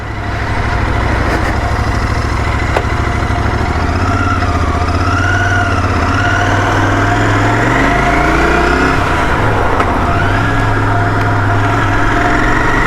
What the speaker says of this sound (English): I really like the sound of the parallel twin.